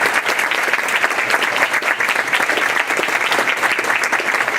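An audience applauds to welcome a lecturer, Professor Jamal Greene, at an indoor lecture event, a dense, sustained round of many hands clapping close and loud with no pause.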